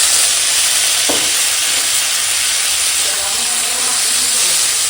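Vegetables fry in a pan for a lentil and egg omelette curry, giving a steady close sizzling hiss throughout with a brief stir or clink near the start.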